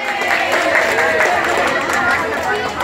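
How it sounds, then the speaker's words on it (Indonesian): Pupils and parents at a Year 6 primary school farewell ceremony clap and chatter together, a dense, loud patter of applause mixed with crowd babble. "tepuk tangan dong"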